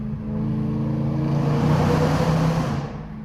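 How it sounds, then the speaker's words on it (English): A BMW E92 M3 with a straight-piped exhaust and 180,000 miles, not yet warmed up, revs and holds a steady, throaty roar, loud and close, then eases off near the end. "The sound of this car does not get old."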